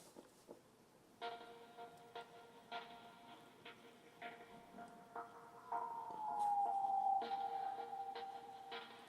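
A distant wailing siren sound effect in a song drifts behind faint rhythmic music, rising and sliding in pitch, soft and far off, with no talking.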